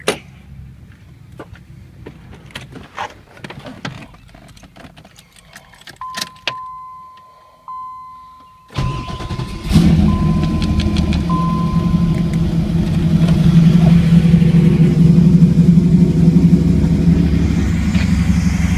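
Keys jangle and a few clicks come first, then a 1994 Chevrolet Camaro Z28 with an LT1 V8 cranks briefly and fires on a dead cold start. It settles into a loud, steady, deep idle close by.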